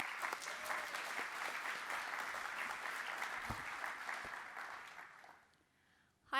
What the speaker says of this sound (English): Let's give a welcome applause to Jill Kate.